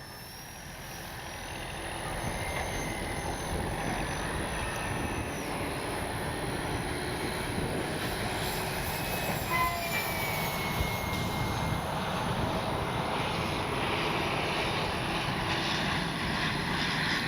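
An Arrows P-51D Mustang 850mm RC model airplane on its maiden flight drones steadily overhead on a windy day, its small engine buzz swelling after the first couple of seconds and holding a continuous, slightly wavering tone at moderate distance.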